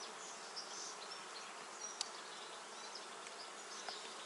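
Honeybees buzz around an open hive frame during colony splitting, a soft continuous swarm hum with faint ticks and small bursts, no voice present.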